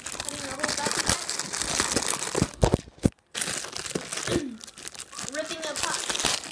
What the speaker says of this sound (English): Cutting the whole plastic bag.